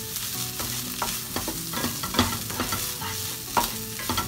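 Chicharrón in salsa with rice is stirred and heated in a pan. A spoon scrapes in a steady rhythm over a constant low sizzle, close and clear, with no talking.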